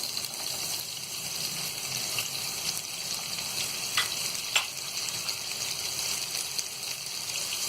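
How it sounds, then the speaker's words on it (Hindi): Chopped onions frying in oil, a continuous close bubbling sizzle at even loudness with a couple of faint clicks and no voices. "प्याज को हम गोल्डन ब्राउन होने तक फ्राई करेंगे"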